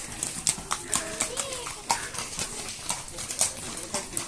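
A horse clip-clops at a rural spot in Campos do Jordão, Brazil, with irregular close hoof knocks under children's and adults' chatter.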